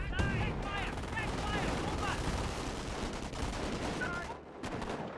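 Dense, continuous rifle and submachine-gun fire with explosive cracks rattles through a World War II battle in the strategy game Company of Heroes 1, with a caster's voice audible over the din.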